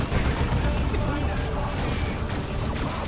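Artillery shelling an Eldar tank in Dawn of War II, heavy booming blasts and rumbling impacts packed closely together in a loud, continuous battle din, with a voice talking over it.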